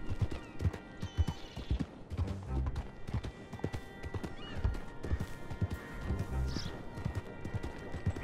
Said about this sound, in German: Ich sehe mein Pferd.